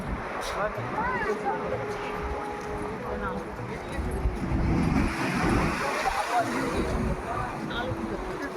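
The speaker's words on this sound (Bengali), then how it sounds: "খুব সুন্দর লাগছে সমুদ্রটা ঢেউগুলো ছোটো ছোটো হয়ে গেছে" Small sea waves wash in at Digha beach, a broad surf roar mixed with wind buffeting the microphone. People chat over the waves throughout.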